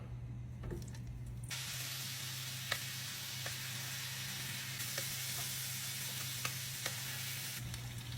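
Food frying in a hot skillet with oil and butter, a steady crackling sizzle that flares brighter after the first second and again midway, with occasional small pops and clicks of utensils, no voices.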